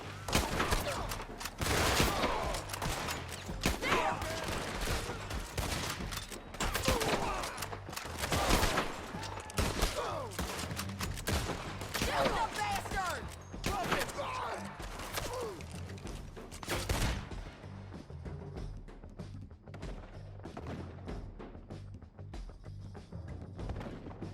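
Gunfire in Red Dead Redemption 2: dense, rapid volleys of shots packed together for most of the stretch, loud and close, with voices shouting over them before the barrage thins out toward the end.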